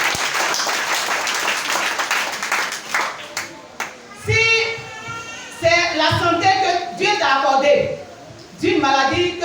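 Church congregation clapping and cheering in acclaim of the Lord, loud applause at first, then breaking into bursts of shouting and cheering voices that rise and fall.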